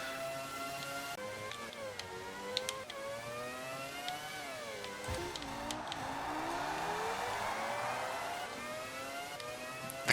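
Formula 1 race car engines from the video game Formula 1 98 wail in a high, steady pitch, climbing through gears and dropping on downshifts, with several cars layered together and no voices.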